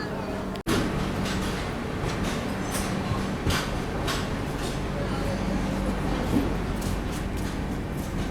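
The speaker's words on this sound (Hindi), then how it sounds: "सगौली जंक्शन से अपनी ट्रेन निकल चुकी है।" A long-distance express train rolls out of Sagauli Junction railway station, a steady rumbling carriage noise close and continuous under the onboard din, with a brief sharp knock near the start and faint rattles throughout.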